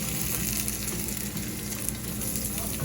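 An egg fries in oil in a pan, a steady close crackling sizzle with no voices.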